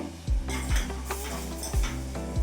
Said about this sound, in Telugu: ఇప్పుడు దోసకాయ ముక్కలు వేస్తున్నానండి.